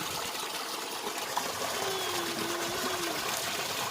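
A garden hose runs water into a koi pond during a half water change, a steady, even gush that continues without a break.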